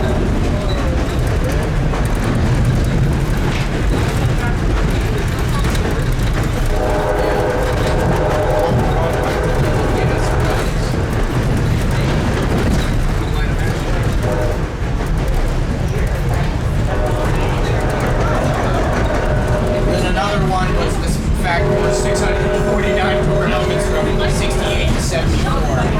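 Steady rumble and rattle of a passenger train riding along the rails between North Reading and Jim Thorpe, Pennsylvania, continuous throughout, with a voice talking over it.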